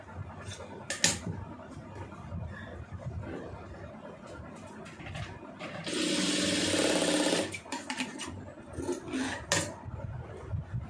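Sewing machine stitching a round neckline on a garment, running in one loud, steady whirring burst of about two seconds, surrounded by quieter handling clatter and a brief voice.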